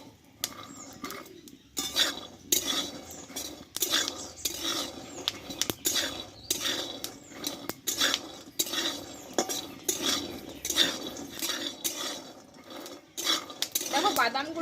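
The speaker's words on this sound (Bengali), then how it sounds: "দেখো একটা আওয়াজ চলে এসছে বাদামগুলো থেকে" Peanuts roasting in a pan crackle and rattle against the metal in busy, irregular bursts as they are stirred, with clinks and scrapes and a faint voice at moments.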